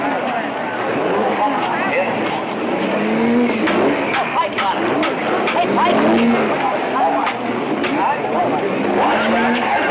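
Gran Turismo race cars, including a Lotus Elite, roar around a circuit in a 25-lap race, with a dense, steady wash of engine noise and passing cars at the track under a loud announcer's voice.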